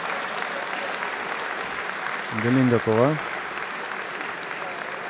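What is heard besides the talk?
spectators applauding after a boxing bout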